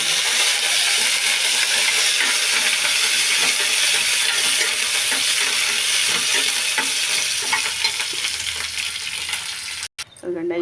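Cumin, dried red chillies and curry leaves fry in hot oil, a loud steady sizzle and hiss with occasional stirring scrapes, close up throughout.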